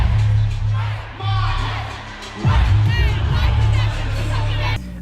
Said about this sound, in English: the crowd was going crazy, as you guys can see from this clip